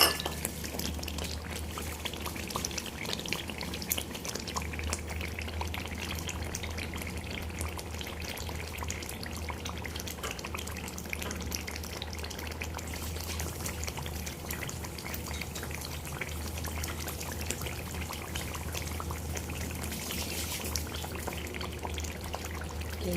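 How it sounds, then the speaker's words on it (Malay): Tamarind water, seeds included, poured into sambal tumis cooking in a pan, a soft continuous liquid pour over faint sizzling, with no talking. "Letak air asam ya, air asam jawa. Letak dengan biji dia sekali."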